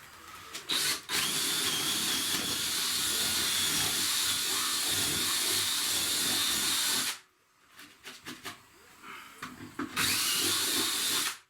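A loud power drill whines steadily while building a 12-volt load center, stops briefly amid clunks and handling noises, then spins up again close by.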